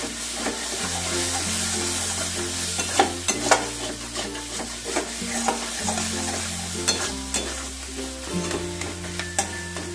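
Frying sizzles steadily in a pan over a medium gas flame while a utensil stirs and scrapes, giving irregular clinks and scrapes above a continuous hiss. No one speaks.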